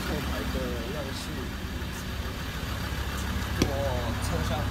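A Ford Ranger turbo-diesel idles steadily, its exhaust welded into a single-side twin-tip titanium-look side outlet. The low, even rumble runs throughout at close range while a voice talks over it.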